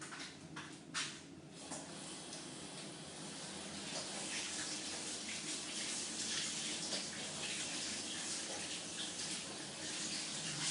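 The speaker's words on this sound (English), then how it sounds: "I'm just going to wash my hands before I touch my other painting." A tap runs steadily while hands are washed, a continuous close rush of water that grows slightly fuller, with a few brief splashes and handling sounds near the start.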